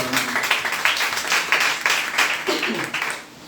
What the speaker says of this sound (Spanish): decimos amén con un glorioso aplauso a Jesucristo